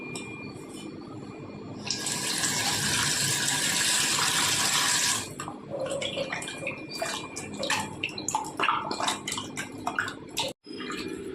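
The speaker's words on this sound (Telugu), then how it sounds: "ఇలా మనం మటన్ని 2-3 టైమ్స్ బాగా వాష్ చేసుకోవాలి." Mutton pieces washed by hand in water for a curry: a few seconds of rushing tap water, then close, irregular splashing, sloshing and clinking as the meat is rinsed, with no talk.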